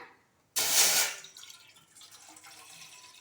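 Water splashing into a glass for making tea, a sudden loud pour that lasts about half a second, then fades into quieter trickling and drips, with no talking.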